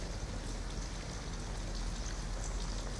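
Steady rain falls in Detroit: Become Human, a constant soft hiss of drops on surfaces filling the scene, quiet and unbroken with no voices.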